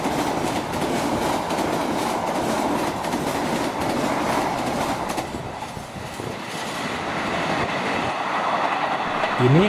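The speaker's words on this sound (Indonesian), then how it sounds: "Ini kereta api Argo Parahyangan tambahan 40" An Argo Parahyangan passenger train rolls past close by, a steady, loud rumble of wheels and rail clatter with rhythmic clickety-clack and a faint squeal near the end.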